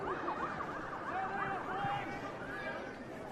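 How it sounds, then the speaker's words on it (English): Sirens wail in rising and falling sweeps at a rugby league World Cup qualifier between the Cook Islands and South Africa, moderately loud over crowd chatter at the stadium. "it's the sirens here at Whitfield tonight"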